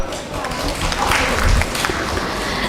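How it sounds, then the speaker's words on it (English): Audience at a nursing conference applauding, a dense, steady wash of clapping from many hands in a hall, loud and continuous throughout. "Please give a round of applause for sir."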